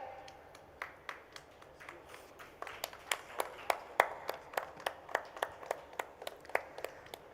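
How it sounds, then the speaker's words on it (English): Sparse, distinct hand claps at a healthcare conference grow into a steady, fairly quiet rhythm of single claps, as if a few audience members keep the applause going while names are called. "let's keep the applause going, ladies and gentlemen."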